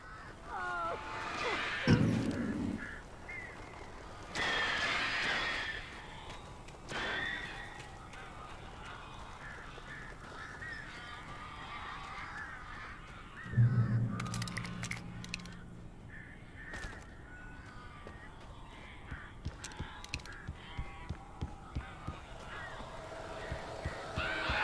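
Birds caw and honk in bursts among other sounds in the Alan Wake video game, sometimes close and loud, sometimes fading back, with other in-game noises in between.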